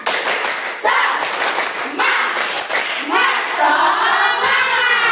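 A classroom of students performs the rhythmic tepuk semangat clapping cheer, with several bursts of loud group claps and shouted chanting voices throughout.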